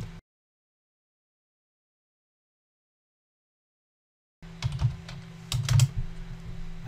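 Typing on a computer keyboard breaks a long silence with a quick run of close, crisp keystrokes and clicks that continue to the end.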